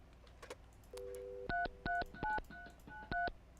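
Telephone keypad dialing in the video game Mon Bazou: a tone sounds, then a rapid series of about six touch-tone beeps, clear and close with no talk.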